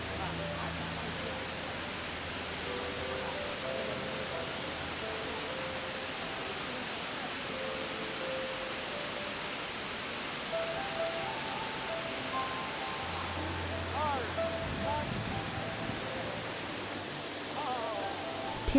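Steady, loud broadband roar of Nuorilang Waterfall in Jiuzhaigou, heard up close and unbroken throughout, with faint tonal sounds and possible voices drifting in the background.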